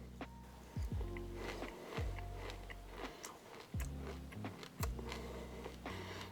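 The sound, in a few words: crunching crispy nutty toasted quinoa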